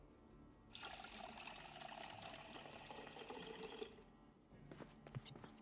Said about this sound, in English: refill our water